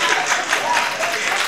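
Brief burst of audience clapping at a live onstage interview, dense and fairly close, with a faint voice murmuring underneath.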